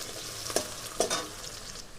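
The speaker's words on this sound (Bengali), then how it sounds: "ফোড়নটা ভাজা ভাজা হয়ে গেছে, এবার দিয়ে দেবো আলু।" Potatoes dropped into hot oil tempered with nigella seeds and dried chilli give a steady close sizzle, with two sharper scraping clacks as a spatula turns them, and no voices.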